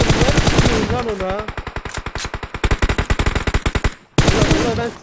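Rapid automatic gunfire in the mobile battle royale game PUBG Mobile, a long, fast, evenly spaced stream of loud shots that cuts out briefly and then resumes, with a voice speaking over the opening.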